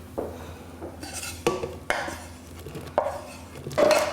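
Cake batter for a pear, almond and tahini cake is mixed in a bowl, with a utensil clinking and scraping against the sides in several separate knocks and strokes, close and moderately loud.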